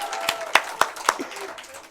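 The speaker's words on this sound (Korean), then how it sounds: "박수 한 번만 해야 돼." A few sharp hand claps from a small audience at a morning devotional gathering, several separate claps in quick succession, close and dry, with a brief murmur of voices.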